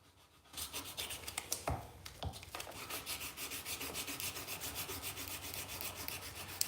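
Redline Rhino wet sandpaper rubs back and forth over a handmade knife handle, a quiet, close, rhythmic scratchy sanding with steady strokes that continue after a few brief knocks, and no voices.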